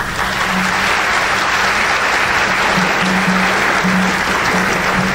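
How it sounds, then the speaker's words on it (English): Sustained applause from an audience at a high school academic awards program, dense and steady throughout at a loud, even level with no pauses. "If you want to give him applause, that's fine."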